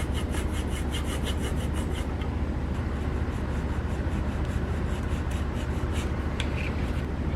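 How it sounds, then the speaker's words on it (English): A hand file rasps a slot for the lip into a small handmade wooden mini crankbait body, a steady rhythmic back-and-forth scraping that stays close and fairly loud throughout. "Let's just get a file on that."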